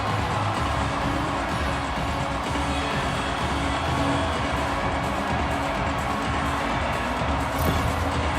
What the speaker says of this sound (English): The Red Wings crowd has really come to life here early in this first period after that goal.